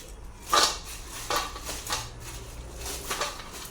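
Jaggery goes into a pot of raw mango jelly, with a few sharp clinks and knocks of utensil against pot spaced over a few seconds, faint rustling between them.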